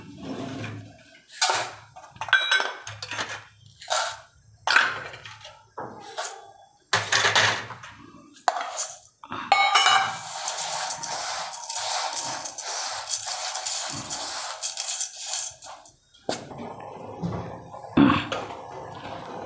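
Khichdi rice and lentils washed by hand in a vessel of water: scattered clinks and knocks of the vessel, then several seconds of close, continuous swishing and sloshing before more clatter. No speech.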